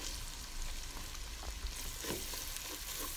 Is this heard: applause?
no